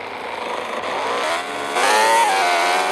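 A motorbike races in the Roblox Bike Tycoon video game, its synthetic engine droning steadily and then rising in pitch as it revs and accelerates.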